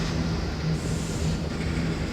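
A train of railroad cars rolls steadily past in the Trainz railway simulator game, a continuous rumbling rail noise with faint wheel clatter and no talking over it.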